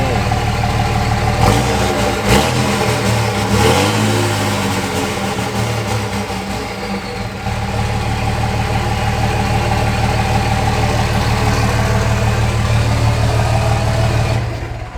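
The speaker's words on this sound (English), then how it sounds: "Just a straight pipe Ford Ranger, that's all it is." A straight-piped Ford Ranger with a four-cylinder engine idles loud and close with a deep, rumbling exhaust note, rising into several brief revs early on before settling back into a steady, throbbing idle.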